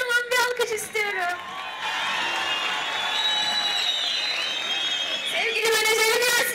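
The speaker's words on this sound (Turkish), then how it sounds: "burada oturan böylesi arkadaşlarıma kocaman bir alkış istiyorum" A crowd at an outdoor youth festival concert in Kayapınar claps and cheers in a steady wash between stretches of someone talking into a microphone.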